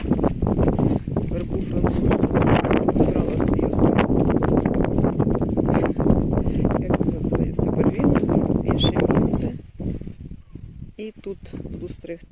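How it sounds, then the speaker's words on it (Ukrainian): Strong wind buffets the microphone in a loud, continuous rumble for most of the clip, easing near the end, while a person talks over it in a garden in March. "Боже, який вітер, не знаю, буде чути мене чи."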